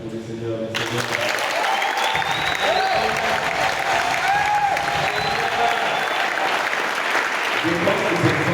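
A church congregation applauds and cheers for the Lord: sustained, dense clapping and crowd cheering from a large group, loud and continuous, with a voice calling out over it.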